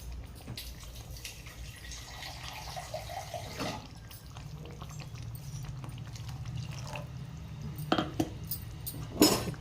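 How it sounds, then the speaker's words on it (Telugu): Water pours and splashes into a pot of paneer curry, with faint clinks of a utensil and a couple of louder knocks near the end. "నేను ఇంకా కొంచెం వాటర్ పోసుకుంటా."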